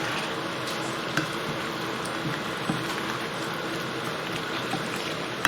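Chicken wing curry, Punjabi style, being stirred in a pan: a steady low sizzle and bubbling runs throughout, with a few faint spoon taps and scrapes against the pan.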